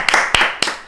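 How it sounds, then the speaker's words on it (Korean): Three sharp, loud hand claps ring out close by in an even rhythm, spaced about a quarter second apart, with nothing else heard. "다 같이 박수."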